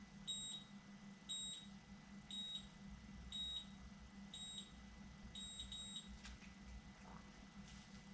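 Repeated high electronic beeps from a GlamTouche cordless auto hair curler, a steady series of short paired tones at roughly one-second intervals over a low background hum.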